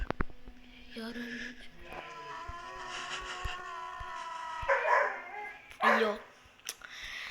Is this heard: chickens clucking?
no